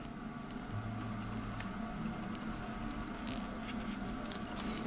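Plastic Zaku model kit part being cut along a line with a hobby blade, a steady faint scratching and patter close by, continuous and quiet without any voices.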